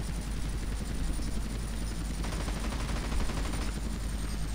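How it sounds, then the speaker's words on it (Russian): Machine gun fire from a jetpack in GTA San Andreas, a continuous dense rattle of rapid shots layered over a steady whirring engine drone, loud and unbroken throughout. "Ctrl — это стрелять пулями, левая кнопка — стрелять ракетами."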